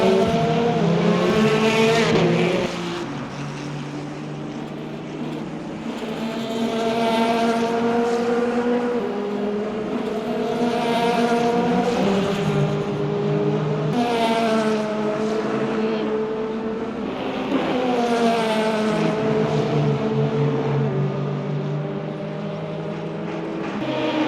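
Race car engine in Le Mans Ultimate during the 24 Hours of Le Mans, running on old tires: a loud, sustained engine note climbing and dropping through repeated gear shifts, with no talk over it.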